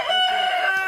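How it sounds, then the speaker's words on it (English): A rooster crows once, loud and close, on a farm in Maroon Town, Jamaica, its drawn-out call filling the short stretch with no talking. "Some birds. The birds are part of the attraction as well, Mr. Barr."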